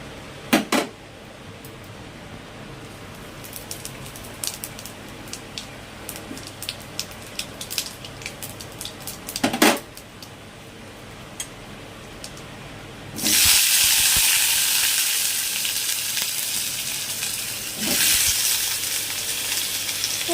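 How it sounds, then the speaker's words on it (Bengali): A bay leaf dropped into hot oil in a wok sizzles with a sudden loud hiss partway through, following scattered clicks and taps, then the frying carries on steadily to the end. "তেলটা গরম হয়ে গেছে, তেজপাতাটা দিই।"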